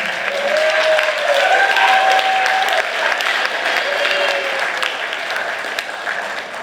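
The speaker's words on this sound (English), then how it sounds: "Noel, let's clap it up for him." A loud, full round of audience clapping at a freshman orientation event, steady and close from start to finish, with a few whoops and raised voices carrying over the applause.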